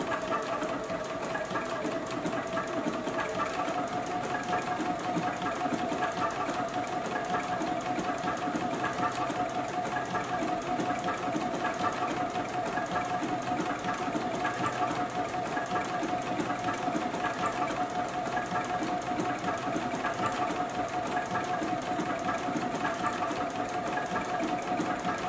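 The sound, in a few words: JUKI sewing machine stitching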